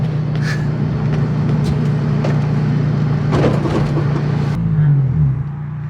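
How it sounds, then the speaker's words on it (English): A Honda S2000 with a loud aftermarket exhaust drives along, its steady droning exhaust note holding throughout, then pitch shifts briefly as the engine changes speed near the end. "This exhaust gotta go."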